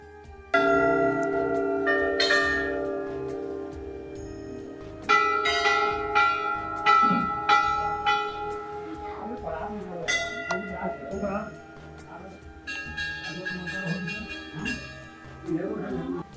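Metal bells hang at Golu Devta temple in Uttarakhand and ring out in several bursts of clanging strikes, each leaving a bright, sustained ringing tail that overlaps the next, loud and close.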